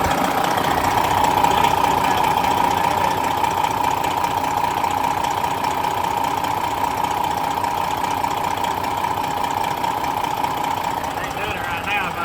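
A delivery van engine idles steadily with a faint knocking rattle, a constant close mechanical drone holding throughout.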